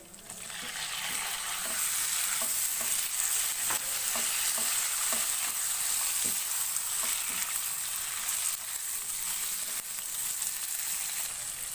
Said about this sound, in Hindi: लहसुन अदरक के साथ फ्राई करेंगे।